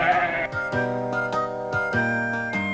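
Gomer Goat, a cartoon goat in a Hi Ho Cherry O board game, bleats in a run of quick, wavering cries, several in a row, close and fairly loud.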